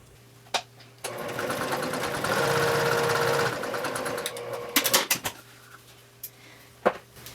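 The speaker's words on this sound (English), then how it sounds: "take this over to the sewing machine and sew a diagonal line from this upper left corner down to the lower right corner" A sewing machine stitches a diagonal seam across fabric for a Tiffany-style bag, with a steady motor whir of about two and a half seconds, then short stop-start bursts and a few clicks, no talking.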